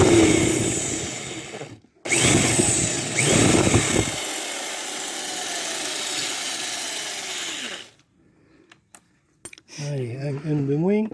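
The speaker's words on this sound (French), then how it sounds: "Alors, il faut percer dans le trou" A drill bores into a washing machine motor being dismantled, with short loud grinding bursts, a pause, then a longer steady whirring run that stops, followed by brief clicks and a person talking.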